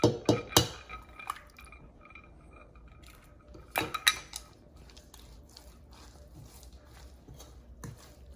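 Eggs are cracked into a homemade egg roll filling mix, with a few sharp taps and cracks near the start and again midway, followed by quieter kitchen handling. No one speaks.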